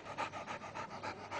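An overworked bomb disposal squad sniffer dog pants steadily and rapidly, about seven quick breathy puffs in a regular rhythm, close and fairly loud with no talking.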